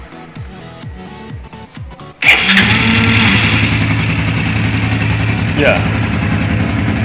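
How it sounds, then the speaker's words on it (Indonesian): A motorcycle engine cranks with a few rhythmic starter pulses, catches about two seconds in and settles into a loud steady idle, while someone talks over it. "kita akan nyalakan engine-nya"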